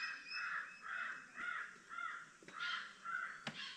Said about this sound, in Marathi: पक्षी बघ कसे ओरडतात।